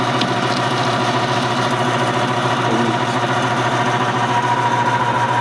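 A lathe cutting tool just grazes the uneven surface of a Honda PA50 moped exhaust pipe, giving a steady droning, rasping run with a faint rhythmic scrape, close and continuous with no speech.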